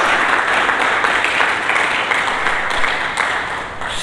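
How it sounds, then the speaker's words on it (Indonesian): A church congregation claps in praise to Jesus Christ, dense and loud, sustained for several seconds and easing slightly near the end. "Berikan tepuk tangan bagi Yesus Kristus."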